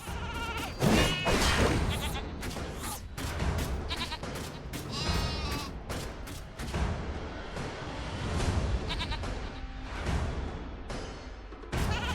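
Sheep bleating in the video game Skylanders: Trap Team, mixed with game sound effects like whooshes and crashes, loud and busy throughout.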